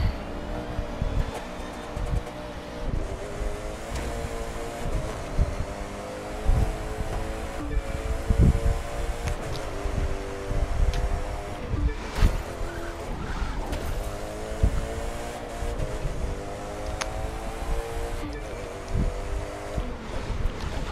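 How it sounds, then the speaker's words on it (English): A race car engine in The Crew 2 video game revs hard toward redline, holding a high, straining drone with rising and falling pitch sweeps, tire squeal and skidding, continuous and loud with no talk. "I'm just hearing it freaking redline like crazy."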